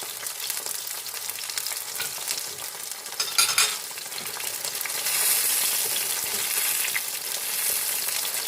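Summer cep mushrooms fry hard in very hot oil in a pan. The sizzle is steady and crackling, with a burst of spitting partway through and brief stirring scrapes, close and alone.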